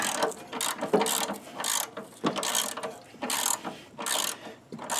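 A ratchet clicks in rapid bursts while bolts are loosened on an Ariens snowblower, the ratcheting strokes repeating in several clusters with brief pauses between them, close and moderately quiet.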